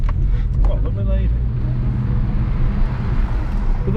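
A Porsche Cayman GTS drives along with a steady low engine drone and road rumble, a person talking over it inside the car.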